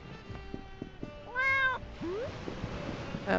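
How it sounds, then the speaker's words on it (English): Several cats meowing in a video game, a short series of clear, close meows with one longer drawn-out cry in the middle, over faint background game sounds. "All the kitty cats."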